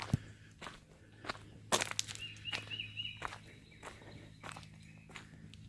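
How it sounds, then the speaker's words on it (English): A squirrel scampers through dry leaves outdoors on a cool day, a run of quick rustling, crunching steps that come in bursts, close and fairly loud, with faint birdsong in the background. "a squirrel run by making a lot of racket"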